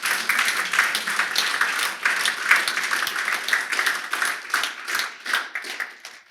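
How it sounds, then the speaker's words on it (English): An audience in a room applauds, a dense continuous patter of many hands clapping at moderate volume for several seconds before tapering off. "Let's have a nice round of applause for all the winners sitting in this room."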